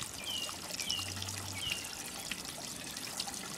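Water trickles and drains from a hydroponic flood and drain tray after a short two-minute flood cycle, a steady soft dribbling flow nearby with no talk.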